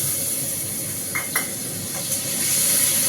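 Ginger paste frying in a hot pan gives a steady, close sizzle and hiss, with a few faint stirring clinks against the pan and no voices.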